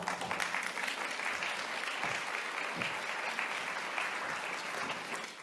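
Steady applause from a luncheon audience at a keynote event on climate change and cancer, dense sustained clapping filling the room at even loudness throughout.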